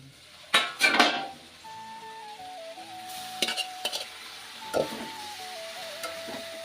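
Spices being roasted in a pan for spicy ramen at home: a few loud scraping strokes of a spoon against the pan, then quieter scrapes over a low sizzle, with a steady tone running in the background.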